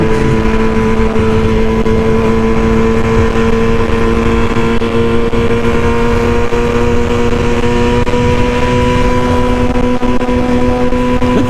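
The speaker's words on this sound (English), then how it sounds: "This bike has so much power, it's ridiculous." Engine of a 2020 BMW motorcycle held in first gear, a steady loud drone with strong sustained tones and no pauses, close and continuous throughout with no talk.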